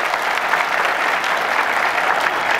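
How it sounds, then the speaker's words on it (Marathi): Steady, dense applause from an audience at a public speech in Sinnar, Maharashtra, a continuous wash of many hands clapping at close range with no voices over it. "त्यांच्यासाठी दोघांसाठी एकदा टाळ्या वाजवा जोरदार."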